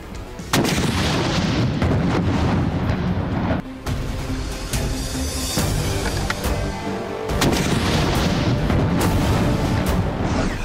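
A weapon fires a shell during military training for women, a heavy boom opening a loud, dense stretch of reverberating blast noise that continues with several abrupt shifts before ending.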